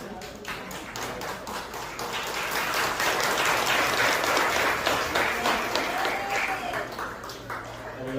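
An audience gives sustained, dense applause for the SD Kanisius Minggir children's choir at GMRP Sendang Jatiningsih, with a voice briefly audible at the start.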